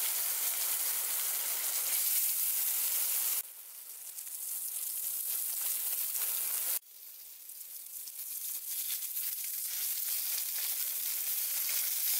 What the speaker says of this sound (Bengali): একটা প্যানে 2 টেবিল স্পুন মতন সর্ষের তেল দিয়ে মাছগুলোকে মিডিয়াম আঁচে ভালো করে ভেজে নিন।